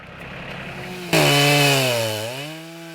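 A chainsaw cuts into a walnut log outdoors during tree harvesting, idling first and then revving hard into a loud, steady, close-up whine that sags slightly as the bar bites into the wood.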